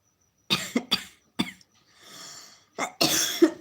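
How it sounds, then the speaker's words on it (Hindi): A person coughs repeatedly in short harsh bursts, pauses with a soft breathy rasp, then breaks into another heavy fit of coughing. "बहुत खांसी आ रही है आज।"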